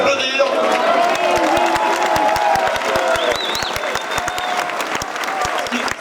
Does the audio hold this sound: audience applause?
yes